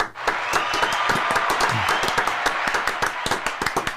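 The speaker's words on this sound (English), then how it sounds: "Can I have some claps there?" An audience claps for a live New Zealand table-talk show, a dense, steady round of hand claps near and loud that carries on for several seconds, with a few individual sharp claps standing out toward the end.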